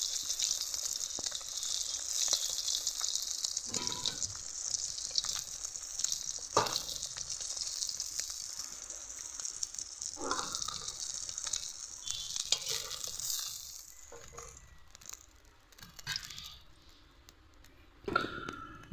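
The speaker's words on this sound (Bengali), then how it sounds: "বাকি মাছগুলো একই রকমভাবে ভেজে নেব" Pieces of rohu fish frying in hot oil, giving a steady, close, loud sizzle that runs throughout and softens toward the end, with occasional clicks and stirring noises from the pan.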